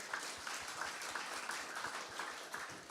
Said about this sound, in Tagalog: Sige nga, pumalakpak ng malakas.